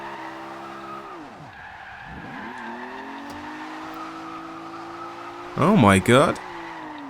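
Car drifting in Forza Horizon 2, a budget drift build whose engine drone holds steady and dips, ending in a loud burst of skidding tire squeal near the end, with a brief exclamation from a man.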